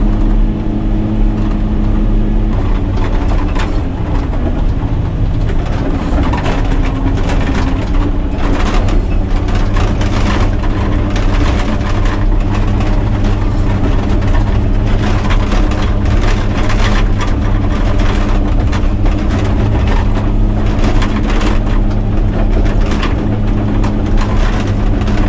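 A Caterpillar 120K motor grader runs in reverse, its diesel engine giving a loud, steady low drone with a constant hum and broadband rumble throughout, with no voices over it.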